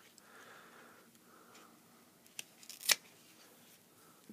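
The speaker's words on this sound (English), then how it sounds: "So I'm going to try and get a clean cut without damaging any other leaves." A snake plant leaf is snipped with scissors in one crisp, close cut, preceded by a few faint clicks over quiet background hiss.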